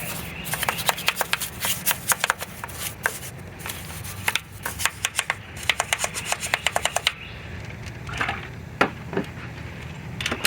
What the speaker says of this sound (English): And then we'll hit the small areas with a small brush. And also the caliper.